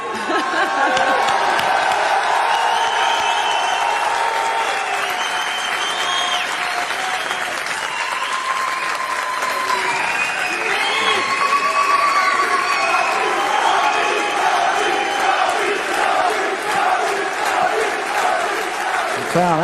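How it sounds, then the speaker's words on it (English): Large crowd applauding and cheering at a live event, continuous dense clapping with whoops and shouts rising and falling for about twenty seconds, steady and loud throughout. "Crowd absolutely loving the moment."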